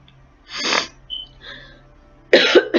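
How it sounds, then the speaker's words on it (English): Short bursts of coughing, a couple of harsh throaty coughs separated by pauses, with a louder double cough at the end, close up and alone without speech. "please excuse my coughing."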